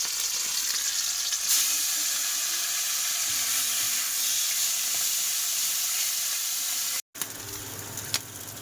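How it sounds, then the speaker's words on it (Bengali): Small river fish fry in a pan with a loud, dense, continuous sizzle close by, briefly cut off near the end, then resuming with a few crackling pops. "মাছ ভাজা হয়ে গেছে"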